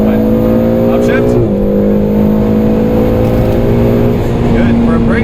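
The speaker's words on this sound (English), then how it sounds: "Obviously, it's a V8 twin turbo. Very different exhaust now. Full throttle." A Ferrari 488 GTB's twin-turbo V8 exhaust at full throttle on a race track, a loud, sustained engine drone that climbs in pitch, dips briefly at a gear change, then rises again, with a voice over it.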